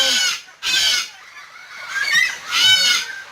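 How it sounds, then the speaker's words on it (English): Loud, harsh cockatoo squawks come in repeated bursts, close by in an aviary in the rain, with shorter screeches between them. "and the birds are loud."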